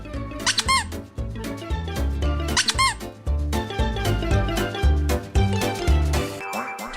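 A dog's squeaky toy squeaks in repeated sharp bursts over loud background music, with a few clustered squeaks standing out clearly near the start.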